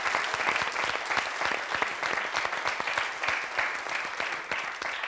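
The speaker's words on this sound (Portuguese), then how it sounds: "Um grande aplauso para o Ivan" A studio audience on a Portuguese daytime television show breaks into loud, sustained applause, dense clapping filling the whole stretch at an even level.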